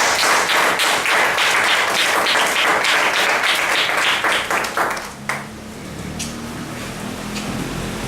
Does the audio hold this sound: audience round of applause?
yes